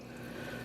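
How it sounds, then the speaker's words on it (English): A little water poured into dye cups while dyeing roving, a soft steady trickle and splash held close and faint for under a second, with no talk. "I'm adding a little bit of water into each cup"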